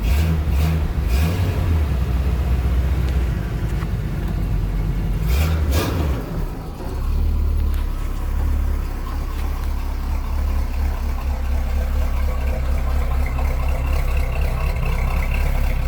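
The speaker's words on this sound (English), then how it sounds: "dual exhaust. Exhaust sounds great." A deep, loud 1970 Chevrolet Camaro SS 350 V8 rumble through dual exhaust with throaty burble, briefly revving around the middle before settling back into a steady low idle.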